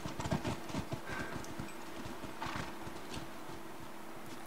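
Horse hooves clip-clopping in The Last of Us video game, a steady run of close hoof strikes over a faint background bed with no talk.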